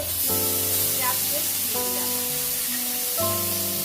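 Whole cumin seeds and two bay leaves sizzle in hot oil for tempering, a steady crackling hiss that continues throughout beneath background music.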